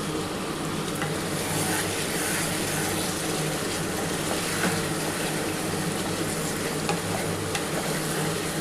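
Chicken with tomato sauce and soy sauce being stirred in a pan, a dense continuous sizzle with a low steady hum underneath, even and close throughout.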